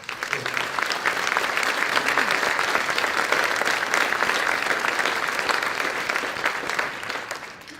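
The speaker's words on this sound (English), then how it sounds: "So a round of applause for all the women." Audience at the ATHENA Leadership Awards gives sustained, full applause for honored women, steady and dense for about eight seconds before tapering.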